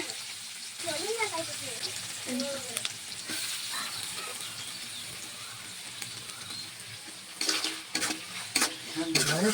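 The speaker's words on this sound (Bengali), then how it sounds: "এখন আমি পেঁয়াজ দিয়ে দিলাম পেঁয়াজ দিয়ে নাড়াচাড়া করে" Sliced onions fry and sizzle steadily in oil with cinnamon and cardamom, and a spatula stirs and scrapes the pan, with brief voice sounds near the start and a few sharper clatters toward the end.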